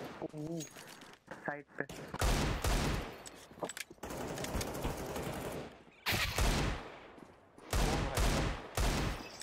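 Loud shotgun blasts from CS:GO gameplay boom out in several separate bursts, with a clipped voice speaking briefly over the opening moments.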